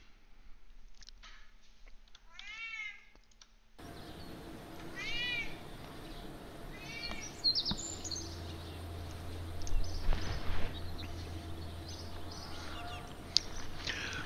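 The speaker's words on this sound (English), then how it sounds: "I have a cat that's absolutely going nuts down there." A house cat meows repeatedly in a home, several drawn-out rising-and-falling calls heard fairly close, spaced apart over a steady low hum with some faint clicks and rustling.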